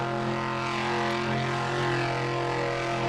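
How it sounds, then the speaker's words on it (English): A Formula Offroad car engine running rough, heard as a steady, loud droning engine tone with strong low harmonics that holds without a break for about three seconds. "And as you can hear here, the car is not sounding right."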